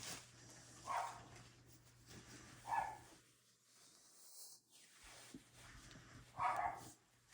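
Dogs bark in the background indoors, three distinct faint barks spaced a few seconds apart over a quiet room with a low steady hum.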